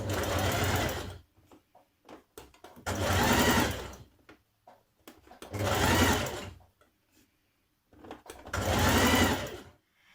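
A sewing machine stitches the side seams of a Simplicity 8910 summer dress in four loud, even bursts of rapid whirring, separated by short quiet pauses.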